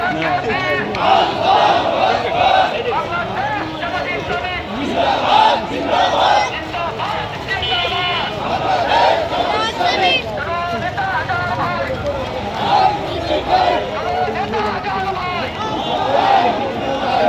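A huge protest procession by Jamaat-e-Islami in Madaripur, demanding a central leader's release, chants loudly in rhythmic waves. Massed voices shout slogans in call-and-response bursts with constant crowd roar underneath.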